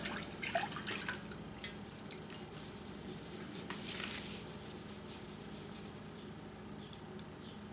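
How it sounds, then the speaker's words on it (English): Melted butters, oils and emulsifiers from a double boiler trickle into juice for a foot scrub, a soft, steady close pour with faint drips throughout. "I'm going to take my butters, oils, and emulsifiers from the double boiler, and I'm going to put into the juice"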